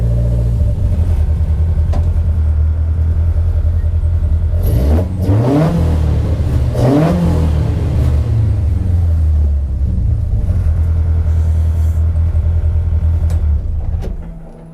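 A car running a hybrid BMW M42/M44 engine with Toyota individual throttle bodies and K20 pistons roars loudly up close, revving and rising in pitch through two surges, then dropping away near the end.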